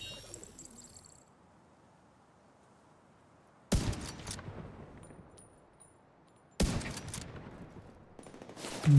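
Two loud bursts of video game gunfire, each with a sharp attack and a short rattling decay, separated by near silence; a faint bird-like chirp sits at the start.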